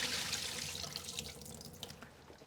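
Rinse water from washed baby bok choy is poured out into a sink, a steady close splashing rush that slowly fades toward dripping, with no talk.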